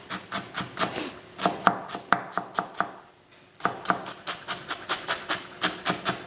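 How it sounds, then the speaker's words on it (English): A knife chops dill stems into small pieces on a board, quick rhythmic thuds in two runs separated by a short pause, close and clear. "you're going to cut more and more thinly, okay, so that we don't bite into big chunks of dill"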